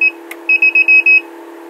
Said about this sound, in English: Now it's going to stop beeping there after a bit.